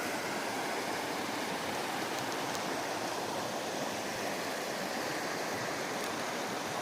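A river stream flowing through a snowy glacier valley near Bow Glacier Falls makes a steady, even rushing hiss that fills the whole stretch without pause or voices.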